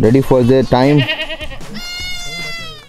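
Goats and sheep bleat in a shepherd's flock before heading out to graze, one loud, wavering cry close by following a man's brief speech, then a high, thin bleat trailing off.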